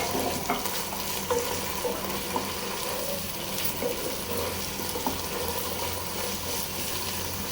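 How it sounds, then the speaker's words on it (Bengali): Meat fries with ginger garlic paste in a pan while it is stirred, giving a continuous loud sizzle with scraping and clinking of the spoon against the pan, close and without talk. "আদা রসুন দেওয়ার পরে আমি মাংসটা দিয়ে দিছি, দিয়ে এটার মধ্যে কিছুক্ষণ লাড়াচাড়া করব"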